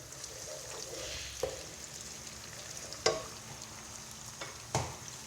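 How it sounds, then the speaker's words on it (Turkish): Tomato paste fries in a pan with a steady close sizzle, broken by three sharp clacks of a utensil stirring against the pan. "Onu da bir şekilde birazcık daha kavrayıp salçanın kokusu birazcık çıksın."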